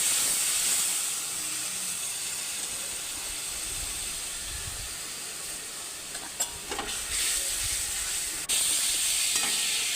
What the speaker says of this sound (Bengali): তেল গরম হয়ে গেছে, তেজপাতা পাঁচফোড়ন দিয়ে এবারে মশলাটাকে ভালো করে কষিয়ে নেব।